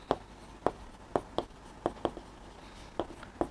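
Chalk taps and scratches on a classroom board in quick, uneven strokes, about a dozen sharp marks over a few seconds, close and fairly quiet with no talk.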